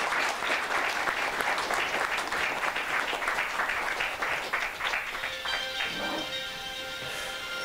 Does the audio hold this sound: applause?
yes